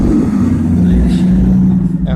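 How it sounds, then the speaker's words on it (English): A truck passes close by on a town street, its low engine rumble rolling steadily for a couple of seconds while a person keeps talking over it. "And a truck goes by."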